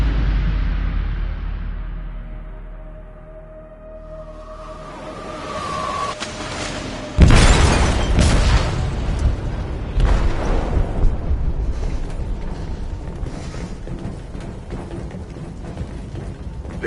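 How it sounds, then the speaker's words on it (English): An explosive detonating in a ship's hold in Detroit: Become Human: a low rumble builds, then a sudden heavy blast hits, followed by a long roaring, crackling aftermath with further booms and debris. "They detonated an explosive in the hold."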